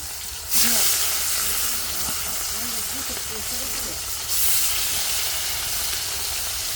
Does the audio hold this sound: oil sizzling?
yes